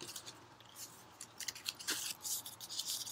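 Paper folded over and over by hand, each crease giving a soft crisp rustle and scrape in an irregular rhythm, close and fairly quiet with no talking.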